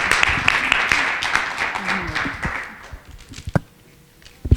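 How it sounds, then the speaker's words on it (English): An audience claps briefly, a burst of applause that tapers off over a few seconds, leaving scattered last claps as speech takes over. "We have to clap"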